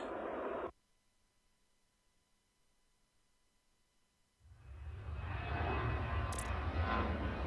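An airliner in the Airport Madness video game taking off, a swelling jet engine roar that starts after a short burst and a quiet gap and builds to a loud steady rumble.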